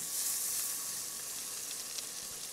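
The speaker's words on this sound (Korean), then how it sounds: "버터 한쪽 살짝 넣어주셔서 녹여주신 뒤에 다져놓으신" Minced shallots sizzle in melted butter in a heated pan, a steady bright frying hiss that stays loud and continuous with faint crackles and no talking.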